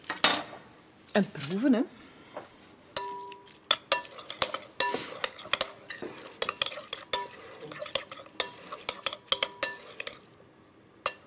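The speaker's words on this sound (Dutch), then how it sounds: "Gaan we eens roeren." A spoon stirs celery soup in a pot, giving repeated close clinks and scrapes against the metal in an uneven rhythm, with brief speech near the start.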